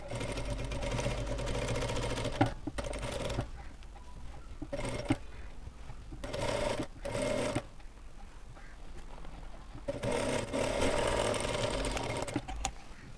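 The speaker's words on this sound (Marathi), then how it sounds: "तर मी ही टीप देऊन घेते." Sewing machine stitching a marked neckline on a blouse, running in several steady whirring bursts separated by short pauses, close and fairly loud with no talk.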